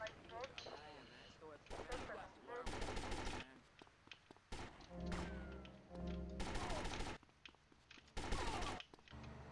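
Bursts of automatic gunfire in GTA Definitive Edition, loud rapid volleys in separated clusters with pauses between, mixed with other game sounds and voices talking.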